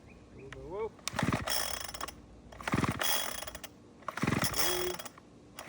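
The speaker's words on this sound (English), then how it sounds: "squeeze the throttle and pull the rope" The pull-start rope of a Craftsman WS2200 weed wacker is yanked three times with the throttle squeezed, each pull a loud rasping ratchet whir as the engine turns over without catching, and a voice speaks briefly before the first pull.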